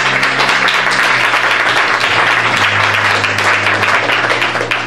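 A church congregation claps loudly and continuously during a Bible study service, a dense, sustained wave of applause that fills the room for several seconds.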